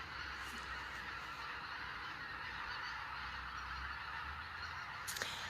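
A flock of geese honks continuously in the distance, a busy chorus of calls over steady outdoor ambience.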